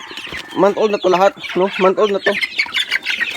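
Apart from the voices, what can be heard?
month-old chicks clucking in a coop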